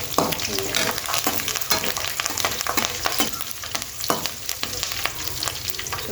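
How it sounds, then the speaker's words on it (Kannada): Peanuts and onions fry in an oiled pan with curry leaves for churumuri, a steady close sizzle broken by periodic scraping stirs, with no talk. "ಸ್ವಲ್ಪ ಸಣ್ಣ ಇಟ್ಕೊಂಡು ಮಿಕ್ಸ್ ಮಾಡ್ಕೊಂಡು ಫ್ರೈ ಮಾಡ್ಕೊಳ್ತೀವಿ"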